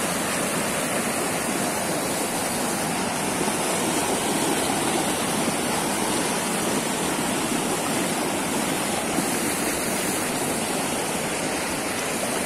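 A flooded river at Bagarkot in Dharan rushes past in a steady, loud broadband roar of turbulent water that holds unbroken throughout, with no voices over it.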